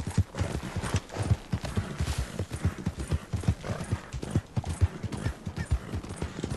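Horse hooves clip-clop in the Red Dead Redemption 2 video game, a quick, steady rhythm of close hoofbeats that runs throughout, with a horse briefly whinnying.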